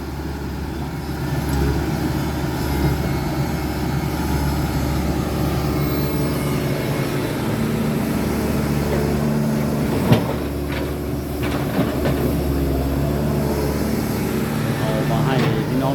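An old Komatsu PC100-2 excavator digs into hard ground, its diesel engine droning steadily with sharp knocks and scrapes from the bucket, while someone talks over the work.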